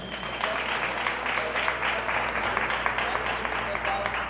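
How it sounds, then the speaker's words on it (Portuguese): An audience claps for guest author Ariane Abdallah at an evening interview event, a dense steady round of applause with some voices mixed in. "salva de palmas para a Ariane"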